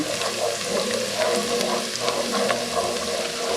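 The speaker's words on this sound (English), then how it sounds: "Nothing better than the smell of garlic cooking in the house" Five cloves of chopped garlic sizzle in a pot for escarole and bean soup, a soft, steady crackling hiss close by with faint stirring sounds and no talk.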